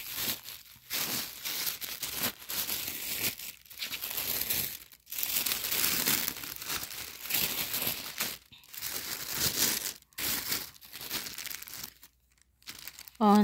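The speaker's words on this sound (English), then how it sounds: "So she wrapped it in this nice like fuchsia littered tissue paper." Gift unwrapped from fuchsia tissue paper, crinkling and tearing steadily and close up for most of the stretch, with short pauses and a brief voice near the end.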